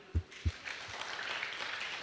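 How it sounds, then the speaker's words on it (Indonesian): Audience applause at a Valentine-themed church sermon, a soft, distant wash of clapping spread evenly across the clip, with two dull low thumps near the start. "Tepuk tangan dulu."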